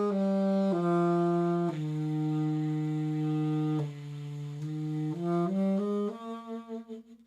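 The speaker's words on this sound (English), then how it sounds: "it gets you a very soft subtone, right? Sounds like this." A soft, breathy jazz subtone on a wind instrument plays alone as a slow, sustained melodic line of long held notes that fades gently at the end.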